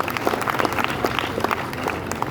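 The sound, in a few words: audience applause welcoming community elders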